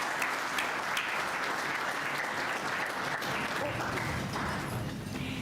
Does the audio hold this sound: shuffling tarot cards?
no